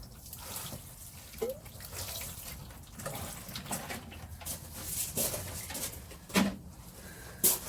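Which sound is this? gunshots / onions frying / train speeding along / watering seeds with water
watering seeds with water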